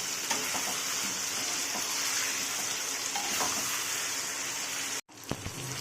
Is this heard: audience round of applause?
no